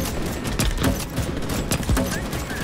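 Rapid gunfire from the Starship Troopers: Extermination video game, dense crackling shots in quick bursts that fill the moment, with voices talking over them.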